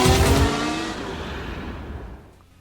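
A Formula One power unit revs hard at the start, then its tone sweeps downward and fades away over a couple of seconds, leaving a quieter tail.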